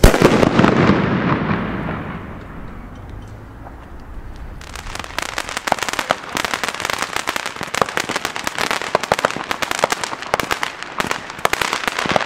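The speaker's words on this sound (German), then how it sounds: "jetzt nehmen wir uns mal hier aus der schönen Mixkiste einen P1-Böller von Pyro Union" A Pyro Union P1 firecracker bursts loudly at the start, its rumble fading over a few seconds before a dense, sustained crackling of many small bangs fills the rest outdoors.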